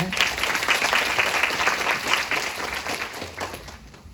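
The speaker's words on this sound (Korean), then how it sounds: "박수 부탁드립니다." Sustained audience applause at a fantasy synopsis creative presentation event, a dense, steady wash of many hands clapping that fades slightly toward the end.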